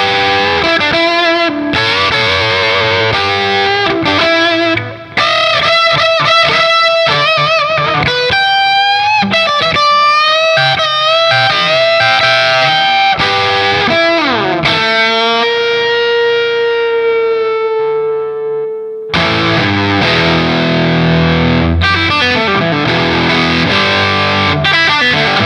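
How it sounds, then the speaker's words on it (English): A Backwing electric guitar runs through a Rev Generator 120 amp with crunch distortion, playing double stops: loud, close, sustained two-note phrases with wavering bends, a long held note, then renewed choppy playing. "Let's try some double stops."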